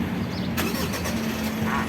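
The engine of a 2022 Mitsubishi Triton turns over after a push-start button is pressed, a short burst of cranking followed by a steady low idle, close and fairly quiet, with no talk.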